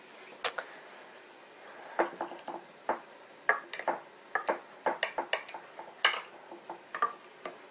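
Knife or spatula tapping and scraping through a baked cheese omelette in a dish, cutting it into squares: a run of crisp, close clicks and knocks of utensil on pan, irregular and fairly quiet, with no talking.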